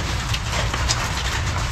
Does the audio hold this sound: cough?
no